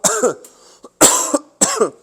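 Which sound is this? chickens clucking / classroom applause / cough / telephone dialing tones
cough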